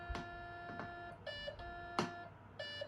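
Odd electronic beeps and warbling tones chirp intermittently from a Nokta Deep Hunter metal detector with a drifting threshold, a few short bursts with soft rustling between them, fairly quiet.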